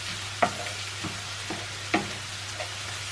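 Onions cook in a pan over a low, constant sizzle, with a few light stirring scrapes spaced about half a second apart, close and fairly quiet.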